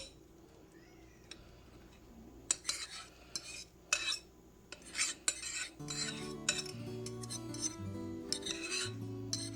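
Bananas dumped into banana cake batter and stirred, giving soft wet thumps and clinking scrapes of a utensil against a bowl, close by, with quiet background tones.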